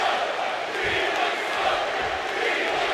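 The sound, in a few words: crowd cheering in wrestling video game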